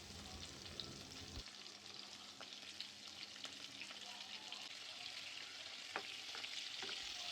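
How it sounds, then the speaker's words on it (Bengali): Medium-sized prawns fry lightly in oil for chingri malaikari, a quiet, even sizzle with scattered crackles and a few stirring clicks, no one speaking. "তারপর চিংড়ি মাছগুলোকে হালকাভাবে ভেজে নিব"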